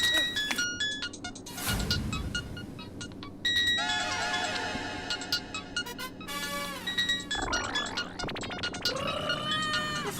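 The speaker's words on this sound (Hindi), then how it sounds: "फोन किसका बज रहा है?" A mobile phone rings loudly with a melodic ringtone during an outdoor neighborhood scene where children are playing cricket. Several voices and other noises overlap the repeating tones throughout.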